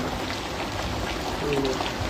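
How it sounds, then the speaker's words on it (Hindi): Heavy rain falls steadily on a house rooftop where water is pooling, a dense continuous hiss and patter throughout with no pauses. "ये लगभग रात के 12 बजे से बारिश हो रहा है"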